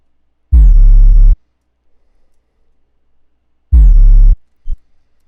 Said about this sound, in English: Then I added this other 808, also out of Takeover 2, sequence 808.